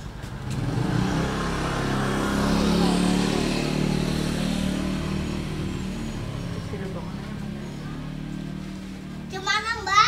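Motorcycles and cars pass along a busy street, a broad engine rumble swelling near the middle and fading, with a child's and adults' voices over the traffic noise and a brief high chirp near the end.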